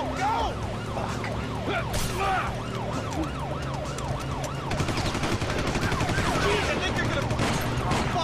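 Gunfire in GTA V erupts amid wailing police sirens, loud bursts of shots layered over the rising and falling siren tones, with the shooting growing denser in the second half.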